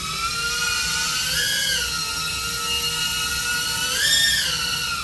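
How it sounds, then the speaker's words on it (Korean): A BETAFPV Pavo Femto micro FPV drone flies indoors, its tiny propellers giving a high, whining buzz that rises and falls in pitch as the throttle changes, close and steady without speech. "아이고 드론 쫓아가기가 힘든데요."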